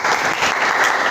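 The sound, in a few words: applause for group 3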